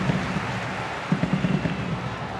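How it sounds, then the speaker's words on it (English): Steady rain falling on a football stadium and slick pitch during a women's Nations League match in Nuremberg, a continuous broadband hiss with some faint crowd texture under it. "While the rain is falling, it's a slick pitch here at the Max-Morlock Stadion."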